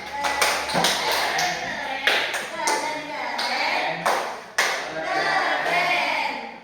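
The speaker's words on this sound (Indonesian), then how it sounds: "Kita kasih aplaus atau tepuk keren." A group of children in a classroom lesson on rawatib prayer clap in a rhythmic cheer pattern, sharp distinct claps in quick bursts and pauses, close and loud, with voices of kids mixed in between.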